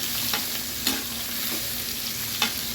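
Onions sautéing in a pot with bay leaf, cumin and cardamom for a salmon fish biryani, giving a loud, close, steady sizzle with repeated scraping stirs every second or so.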